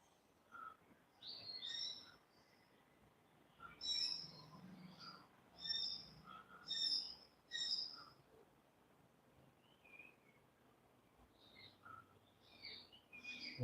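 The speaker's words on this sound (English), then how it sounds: "so you can hear for sure all these cool birds" Birds sing outdoors in the early morning, with a series of bright chirping phrases arriving in bursts every second or two at moderate distance over quiet background, no talking.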